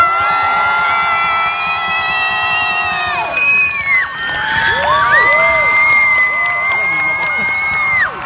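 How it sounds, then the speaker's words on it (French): A crowd at a gaming show event cheers, whoops and shouts to welcome a celebrity guest, with high excited voices rising and falling and applause underneath, loud and sustained throughout. "Je vous demande d'accueillir comme il se doit sous un tonnerre d'applaudissements, messieurs, dames, Tom Felton."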